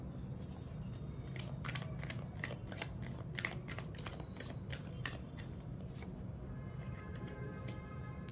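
Tarot cards being shuffled by hand, a rapid series of crisp riffling and flicking bursts repeating close up over a soft background hum, with no talking.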